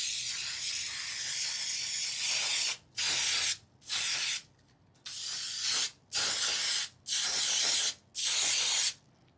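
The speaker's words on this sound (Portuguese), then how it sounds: "Nós vamos untar com spray de unta-forma" Non-stick baking spray is sprayed into a bread pan for homemade gluten-free oat bread, a near, loud hiss following a longer opening burst with about six short bursts in a fairly even rhythm, alone without talk.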